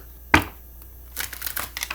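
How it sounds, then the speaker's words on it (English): Tarot card decks shuffled by hand, starting with a single sharp snap, then a soft, rapid riffling patter close by with no talk. "I like to do a little shuffling on camera"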